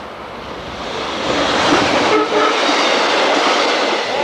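A model train rumbles and clatters past on a club layout with a steady, loud, broadband roar that swells after the first second and holds, with no voices.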